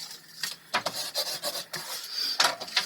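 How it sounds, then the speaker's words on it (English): A hand burnishing glued paper flat, giving short dry rubbing swipes in quick, uneven bursts, close and fairly loud, with no voices. "I'm going to burnish that glue down"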